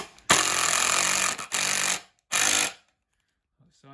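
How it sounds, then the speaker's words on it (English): A power drill drives a screw fixing for a DIY string-light Christmas tree, with two bursts of harsh, close whirring, the second shorter, followed by quiet. "we'll drill through again to put the second fixing in"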